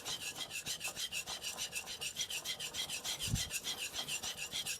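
A Nakamura Hamono knife is stroked across a Morihei Hishiboshi 1000 grit whetstone, likely resinoid, in steady, close, rhythmic back-and-forth rasping passes, about four per second, with no talking.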